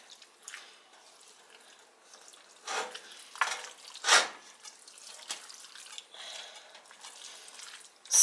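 Food in a pan gets stirred in a few soft, scraping swishes spread over several seconds, close and fairly quiet, with faint wet clicks and a short knock at the end.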